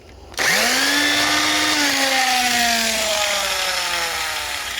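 A handheld electric drill spins up sharply and runs steadily for several seconds, setting a Tekom 9 mm repair stud into a Nokian HP 235/85R16 tyre, its whine gradually slowing toward the end, loud and close with no talk.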